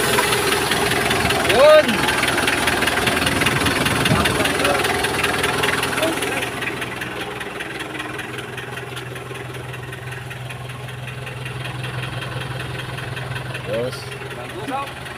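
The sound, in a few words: Mitsubishi 4D56 diesel engine starting and idling after overhaul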